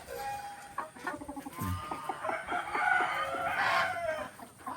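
Native chickens cluck and squawk busily together while eating rice grain, a dense chatter of overlapping calls with a short crow-like cry, fairly close and continuous.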